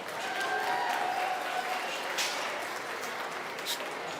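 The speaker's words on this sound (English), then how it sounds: "Let's give these individuals an enormous round of applause." Audience applause at a swine showmanship class at the North Idaho State Fair, a steady sustained clapping from the crowd filling the whole stretch at moderate level.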